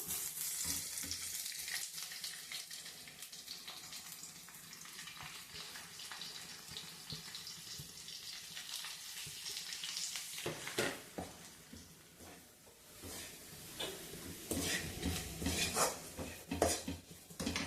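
Masala frying in a pan and being stirred, a continuous sizzle broken by scraping and clinks of a spoon against the metal, busier and louder in the second half, close up with no talking.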